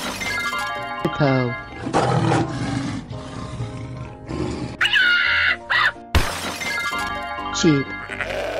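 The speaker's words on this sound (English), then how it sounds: "Hippo." A hippo's roar in a cartoon animal slide game, a deep loud growl mixed with jingles, a shattering crash and bleating sounds, with someone talking throughout.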